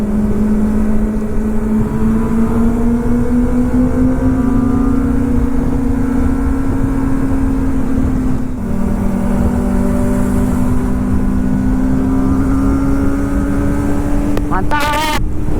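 Kawasaki motorcycle ridden on a Sunday group ride from Saitama to Ibaraki, Japan: a loud, close engine drone rising steadily in pitch as it accelerates, dipping briefly at a gear change, then climbing again amid wind rush.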